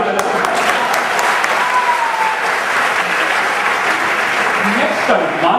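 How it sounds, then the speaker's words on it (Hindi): An audience at a motivational talk breaks into sustained, loud, even applause on cue, dense clapping from many hands with faint voices mixed in. "एक बार ताली बजा।"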